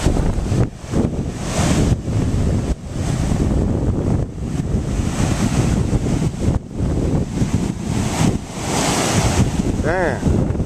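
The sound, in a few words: sea breeze and ocean waves at North Wildwood beach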